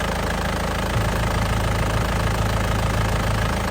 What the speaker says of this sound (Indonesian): suara mesinnya masih sangat pulen dan tidak pincang ya